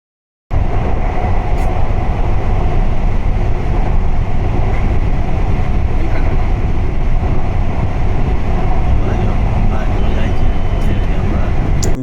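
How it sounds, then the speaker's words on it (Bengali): A Kolkata metro train roars steadily through a tunnel under the Ganges river, a dense, loud rumble with rattling, heard up close from inside the carriage. "কত তাড়াতাড়ি আর কত স্পিডে ছুটছে এই মেট্রো ট্রেন"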